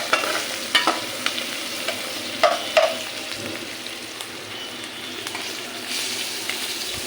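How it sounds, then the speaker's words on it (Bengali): Shrimp, onion and green chillies fry in a pan with a steady close sizzle, punctuated by scattered clinks and scrapes of a spoon stirring. "চিংড়ি মাছ, পেঁয়াজ কাঁচামরিচ ভেজে নিচ্ছি।"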